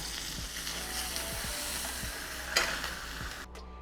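Ribeye steak sears in a hot pan with a steady, close sizzle that carries on throughout, a brief flare of crackle near the end before it cuts off abruptly.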